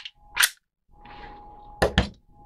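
Walther P1 pistol handled and its slide racked, giving sharp metallic clacks: one near the start and a quick double snap near the end, with a quieter sliding rattle between them, close and alone.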